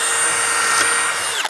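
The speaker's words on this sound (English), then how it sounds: "Quick clamp, grab my drill." Power drill boring through a wooden board clamped in a jig: a loud, continuous high-pitched whir that holds steady, then winds down sharply at the end.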